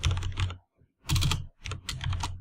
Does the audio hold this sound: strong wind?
no